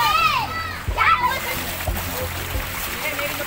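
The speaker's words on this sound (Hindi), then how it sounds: "ये देखो कैसे पानी में से तैर तैर के बच्चे लोग सारे आ रहे हैं।" Children wade and swim through floodwater filling a house in Delhi's Nehru Nagar after heavy rain, with a few splashes and sloshing water close by under children's voices and adult talk.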